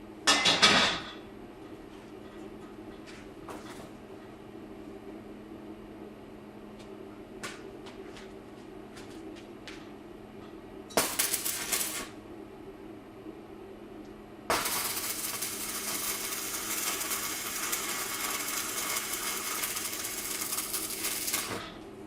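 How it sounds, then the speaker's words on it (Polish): MMA stick welding with a coated electrode starts with short bursts of crackling arc and a few sharp clicks, then settles into a long, steady, hissing buzz. The sound is close up and fairly quiet overall, with no speech. "spróbujmy jeszcze na drugiej stronie położyć e, ładniejszy spaw"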